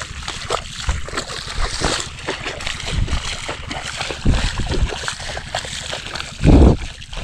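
Water flowing into a rice field, a continuous rushing slosh with occasional louder splashes and gurgles, close and fairly loud throughout.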